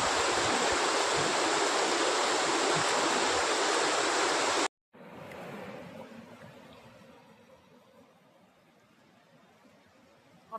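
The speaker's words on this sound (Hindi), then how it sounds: "Now finally we are in Chichati waterfall." Water of the Chichati waterfall in the hills rushes in a loud, steady roar for nearly five seconds, then cuts abruptly to a softer, more distant flow that fades lower.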